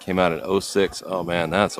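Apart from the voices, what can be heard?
No distinct noise like a dog, phone or traffic.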